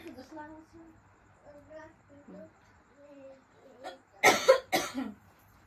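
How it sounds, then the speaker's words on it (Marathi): Several harsh coughs burst out loudly near the end, following a stretch of soft child speech. "खोकला जास्त आहे"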